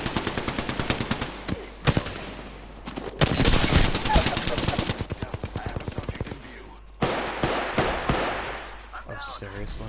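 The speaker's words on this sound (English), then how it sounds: "Shots fired, and they're hitting me." Rapid bursts of automatic gunfire crack through an Apex Legends ranked match, loud and close with brief pauses between volleys and scattered single shots, while a player talks over the action.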